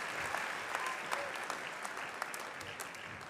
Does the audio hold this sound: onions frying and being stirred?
no